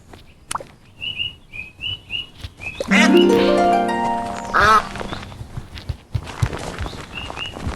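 Duck quacking in the video game Meadowfell: a run of short, evenly spaced nasal quacks, then a loud drawn-out squawk in the middle, with scattered footstep-like taps and a few more quacks near the end.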